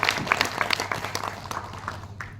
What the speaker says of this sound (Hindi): तो एक बार जोरदार तालियां सर बहादुर सर के लिए